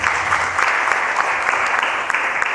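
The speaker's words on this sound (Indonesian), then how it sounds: "Berikan tepuk tangan bagi Allah" A church congregation claps together in dense, sustained applause, loud and close, filling the room evenly without any speech.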